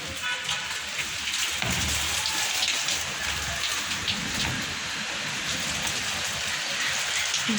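Heavy rain pours down outside a window in a dense, loud, continuous roar of drops that never lets up.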